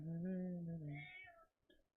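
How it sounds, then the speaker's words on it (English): A house cat gives one long, drawn-out meow close by, sliding down in pitch before fading, followed by a brief quieter chirp. "I apologize for my cat."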